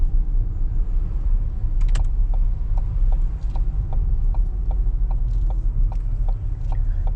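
A learner driver's car moves off on a London test route, its engine rumbling steadily inside the cabin while a rapid, evenly spaced ticking, like an indicator, runs alongside.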